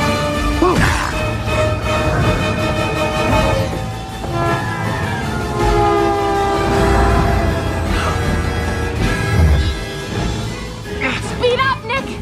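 A cartoon train rumbles steadily with horn blasts sounding over it, while voices shout urgently throughout.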